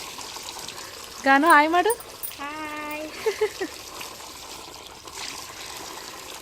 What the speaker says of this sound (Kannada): ಅದಕ್ಕೆ ನೀರು ಹಾಕ್ತಾಯಿದ್ದೀನಿ ತಣ್ಣಗಾಗಲಿ ಅಂತ